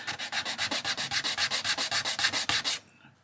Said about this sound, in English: You could even use something like this emery board for the outside bits.